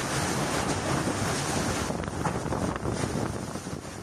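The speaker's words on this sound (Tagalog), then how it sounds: "Nagliparan ng mga yero sa lakas ng hangin at ulan sa kasagsagan ng wind signal number 4 sa Batanes" Super Typhoon Julian lashes Batanes under wind signal number 4, a loud, roaring wall of wind and driving rain buffeting the microphone, surging in gusts with no speech.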